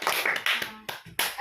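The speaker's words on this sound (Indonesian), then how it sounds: "Ayo berikan tepuk tangan" Students applauding in a classroom after a correct answer, a short burst of loose, uneven clapping in a few separate waves, moderately close and fairly quiet.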